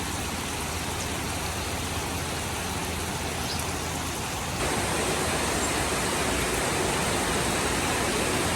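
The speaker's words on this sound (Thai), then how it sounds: "ฝนยังตกหนักต่อเนื่องเป็นวันที่สองแล้วนะคะ" Heavy, continuous rain falling at a house in Sisaket, Thailand, a dense, steady hiss that grows noticeably louder partway through and carries on unbroken, with no voices.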